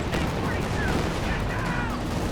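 Dense distant battle noise from Company of Heroes 2: small-arms gunfire mixed with tank shots rumbles steadily and evenly for a couple of seconds, with no clear break or single standout blast.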